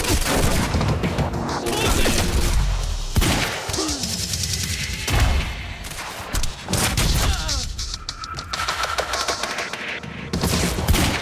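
Automatic gunfire and bursts of shooting from the action game Quantum Break, loud and dense, crackling through most of the stretch with brief lulls and heavy low thumps mixed into the game's effects.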